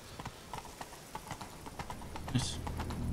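Horse hooves clip-clop in steady rhythm in The Witcher 3 video game, fairly close and even-paced, with some background game noise and a brief louder sound near the end.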